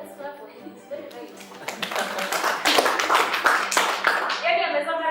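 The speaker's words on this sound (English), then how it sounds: "Let's clap for him." An audience claps for a student in a classroom, a dense burst of hand claps that builds and then carries on under speaking voices, with talk before and after it.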